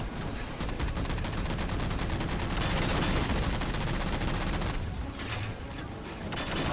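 Missiles fire at players in co-op Halo 4 on Legendary as a dense, loud barrage of rapid, crackling blasts that pounds almost without pause and eases only briefly near the end.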